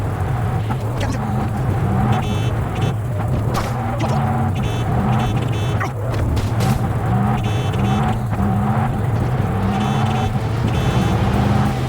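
Car chase in Cyberpunk 2077, a steady engine drone with rising and falling revs and passing whooshes, loud and continuous, with some sharp bursts and voices speaking over it.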